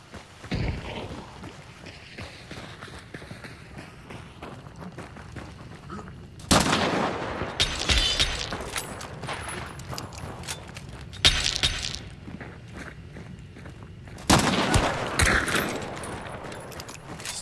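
Video game gunfire crackles steadily in the background, with three loud, sharp bursts of shooting and impacts spaced several seconds apart, and scattered quieter shots between them.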